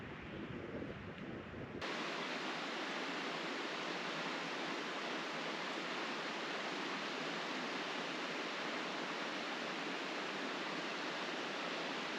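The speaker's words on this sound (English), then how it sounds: "This is the first set of waterfalls." Steady broadband roar of a waterfall on the approach to Aber Falls in Snowdonia, loud and continuous throughout after a brief quieter opening, with no voices.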